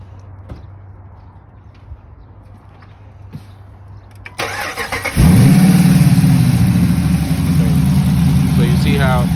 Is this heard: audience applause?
no